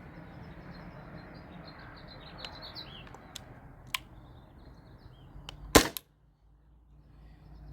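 A Valken M17 airsoft gun fed from a small, nearly empty air tank fires aluminum balls outdoors, a few faint pops and ticks over soft ambient noise, then one sharp louder crack followed by near silence.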